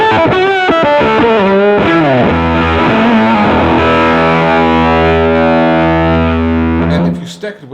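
Electric guitar through a JAM Pedals Octaurus octave fuzz in its alternate clipping mode, guitar volume rolled up: a loud, thick distorted run of notes that settles into a long sustained chord before cutting off.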